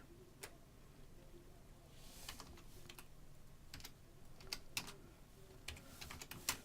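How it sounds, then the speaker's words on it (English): Quiet, steady typing of code on a computer keyboard, a loose run of light key clicks that speeds up and clusters toward the end, close and faint with no speech over it. "I'm going to type in current health."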